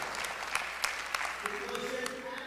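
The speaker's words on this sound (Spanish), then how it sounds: "démosle al Señor palmas de alabanza" A church congregation claps in praise during a sermon, a steady wash of applause with a few sharper individual claps standing out, moderately loud throughout.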